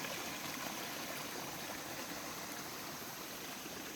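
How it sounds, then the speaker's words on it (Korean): Clear water in a mountain valley stream flowing steadily, a constant close rushing and trickling wash with no pauses and no voices. "아름다운 물소리를 듣는 것만으로도 힐링이 되는데요."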